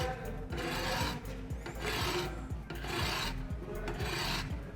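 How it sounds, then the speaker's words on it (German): A serrated knife is sharpened with a small round ceramic rod, producing repeated close rasping strokes in a steady back-and-forth rhythm, fairly quiet and with no talk. "Da können wir eben durchgehen mit diesem kleinen runden Keramikstab auf dem Rücken."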